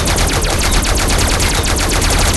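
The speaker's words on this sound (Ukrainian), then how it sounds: "Кидаем нашу турельку. Начинаем стрелять" Rapid automatic turret gunfire in the survival video game LifeAfter, a dense, continuous stream of loud shots firing at an even, fast rhythm throughout.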